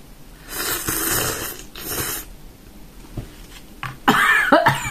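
A person coughs hard after choking on New Touch Sendai spicy miso noodles: several close, rough coughs and throaty snorts that grow louder and harsher toward the end.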